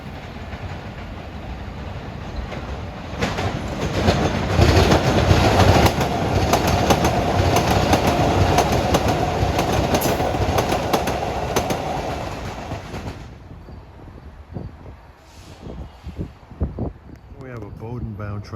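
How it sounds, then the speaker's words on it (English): An MBTA Blue Line subway train pulls away from Orient Heights station in Boston, its wheels clattering and rumbling loudly for several seconds before the noise drops off and fades to quieter surroundings. "Here's a Boden train just left the station."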